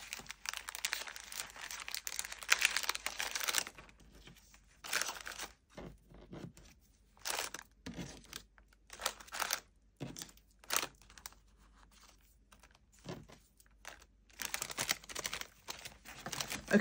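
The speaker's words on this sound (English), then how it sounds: "Put all these other stickers in the sticker pack." Crinkly plastic sticker pack rustling and crackling as loose stickers are slid inside, irregular close bursts of crumpling with short quiet gaps, no talking.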